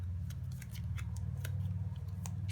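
Playing cards shuffled by hand while setting up the tabletop game Set A Watch: crisp, papery snaps and flutters in irregular bursts over a steady low hum, with no voices.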